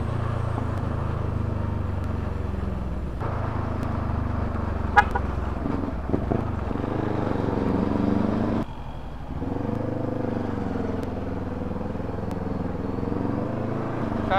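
Steady engine rumble of busy main-road traffic near Aparri in North Luzon, with a brief car horn toot cutting through around the middle and continuous vehicle noise throughout.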